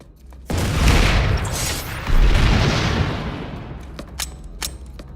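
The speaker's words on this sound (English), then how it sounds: "Switch to your rocket launcher, and use it to blow up an enemy vehicle." Rocket launcher blast destroying an enemy vehicle in Planetside 2: a sudden loud boom followed by a second heavy explosion about a second and a half later, rumbling down into a fading roar with scattered distant gunfire pops near the end.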